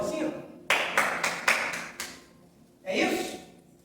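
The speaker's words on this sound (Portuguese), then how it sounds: "A gente aplaude assim?" A preacher demonstrating congregational clapping: a short burst of several sharp, separate claps, a pause, then a brief louder flurry, close and in a reverberant room.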